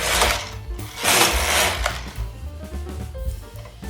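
Knitting machine carriage running rows of a yarn test swatch, a loud mechanical whirring clatter that surges in sweeps with quieter stretches between, close and alone.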